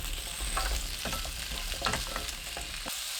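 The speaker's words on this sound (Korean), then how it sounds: "팬에 식용유 1큰술, 고구마 넣고 센 불로 2분 볶습니다." Sweet potato pieces stir-fried in a tablespoon of cooking oil over high heat, a steady close sizzle broken by repeated scraping and tossing strokes of a spatula in the pan.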